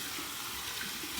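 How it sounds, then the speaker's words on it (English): Warm tap water running steadily into a sink for a shaving rinse, a close, even hiss with no breaks. "This is going to be my warm water rinse."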